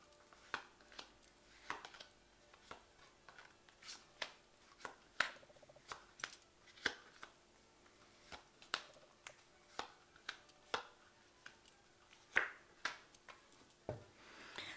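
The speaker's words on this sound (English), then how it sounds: "I'm just going to draw some cards." Tarot cards drawn one by one from a shuffled deck: a quiet series of crisp flicks and snaps at an uneven pace, close to the microphone, with no talking.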